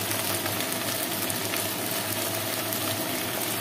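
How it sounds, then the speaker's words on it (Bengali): Green chillies frying with salt and turmeric in a pan give off a constant dense sizzle, loud and close, steady throughout with no talk. "এবার এটাকে ভালো করে একটু ভাজবো"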